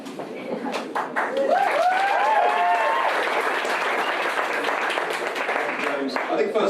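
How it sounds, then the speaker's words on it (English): An audience at a sales talk bursts into steady, full-room clapping that rises within the first second and carries on evenly. A brief high voice or whistle cuts through early on. "I do want to do a round of applause to the recruitment team at Demetria"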